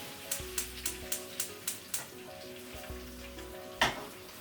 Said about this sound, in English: it says to fry from frozen for 5 to 6 minutes on a high heat